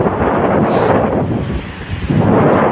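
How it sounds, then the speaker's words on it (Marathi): Strong wind buffeting the microphone at Kalamb Beach, Nalasopara, a loud continuous roar with surf blending in underneath. "वारा तर खूपच आहे मित्रांनो"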